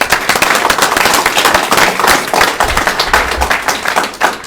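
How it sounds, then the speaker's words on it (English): Loud, dense applause from an audience at a union general membership meeting, sustained hand-clapping throughout with no talk over it. "these 5 individuals deserve an overwhelming round of applause"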